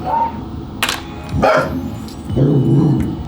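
Dogs bark and yip close by in a home, a few sharp barks followed by a low whimpering growl, loud and with no talking over them.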